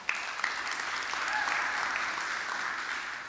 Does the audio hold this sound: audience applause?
yes